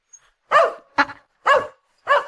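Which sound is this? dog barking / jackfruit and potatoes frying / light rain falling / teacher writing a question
dog barking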